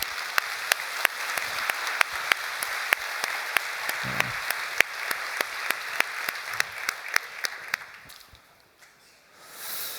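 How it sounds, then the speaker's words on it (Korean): Steady applause from a church congregation welcoming a family during Sunday worship, with sharp individual claps standing out in a regular rhythm, gradually fading near the end. "우리 자리에서 일어서서 박수로 따뜻하게 환영하겠습니다"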